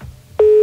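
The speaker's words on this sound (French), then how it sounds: "Il y avait la tonalité Max, là." A telephone tone starts abruptly after a brief quiet moment and holds as a loud, steady, pure hum to the end.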